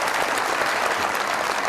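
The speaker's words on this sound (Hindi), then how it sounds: "बहुत सारी तालियां दानिश तैमूर के लिए।" A studio audience claps together in steady, dense applause at a festive Eid television show. The applause is loud and even, runs the whole way through, and has no talk over it.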